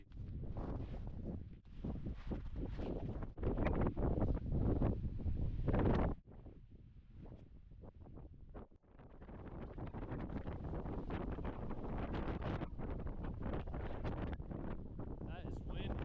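Strong wind buffets the microphone on a mountain top in Appalachia, a loud, gusting roar that rises and falls, with a brief lull partway through, with a voice speaking now and then beneath it.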